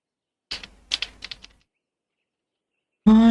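Several close, crisp keystrokes on a computer keyboard, including a once-jammed 5 key, tap out in a quick uneven burst, then silence follows and a loud tonal sound cuts in at the very end.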